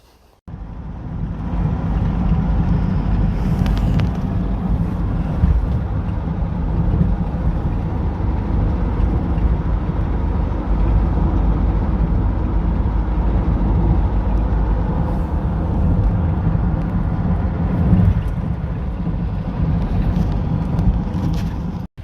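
Inside a rattling minicab on the road near Milton Keynes, a continuous low engine and road rumble drones steadily, with loose rattles and a few brief knocks over the hum and no talking.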